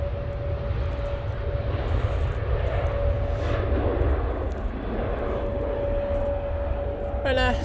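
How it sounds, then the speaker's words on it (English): A Ryanair Boeing 737-800 jet departing Manchester Airport gives a steady, broad engine roar with a constant whine running throughout, at a moderate distance, with some voice sounds mixed in. "Ryanair 737-800 now departing."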